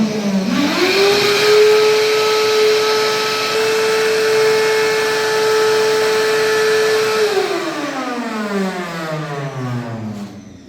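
Vacuum cleaner running indoors during house projects, a steady loud motor whine that rises as it starts, holds for several seconds, then falls away as it winds down, with no talking.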